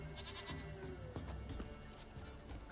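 A goat in the video game The Witcher 3 bleats in several short wavering cries, near and fairly loud, over a soft ambient game background.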